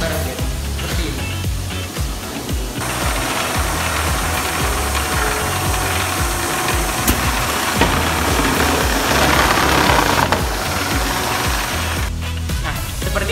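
A conveyor machine on a propeller assembly line runs steadily with continuous mechanical rattling and ratcheting, loud and close, with no voices.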